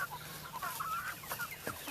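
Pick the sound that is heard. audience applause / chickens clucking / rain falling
chickens clucking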